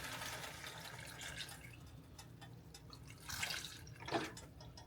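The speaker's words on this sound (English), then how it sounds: "put a little milk in here" Milk pours from a container into a cooking pot, a steady soft liquid splash and trickle with a couple of brief louder gushes near the end, close by and with no talking.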